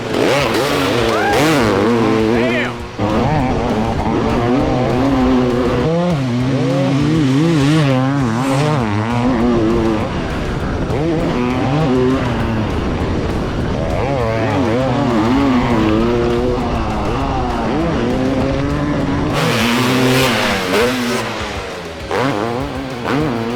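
A 500cc two-stroke dirt bike and an electric dirt bike ride, with a loud, steady engine drone rising and falling as throttle is worked throughout, while people talk over the engine noise.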